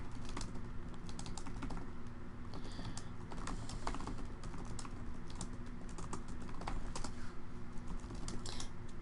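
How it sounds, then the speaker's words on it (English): Typing on a computer keyboard, a continuous run of quick, irregular key clicks at close range, fairly quiet and steady with no talking. "Last thing anyone wants is to sit here and hear me typing all day."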